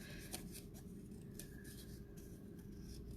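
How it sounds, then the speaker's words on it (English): Scissors snip through paper while a heart shape is cut out for a kids' craft, a quiet steady rustle of small cuts under a low background hum. "I'm just going to cut out. Just cut around it."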